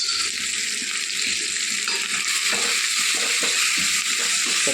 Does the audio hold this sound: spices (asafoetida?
yes